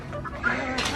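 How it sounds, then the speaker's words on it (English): A bantam rooster in a pasture gives a brief run of soft clucks close by, with faint voices in the background. "Hi, here's a rooster."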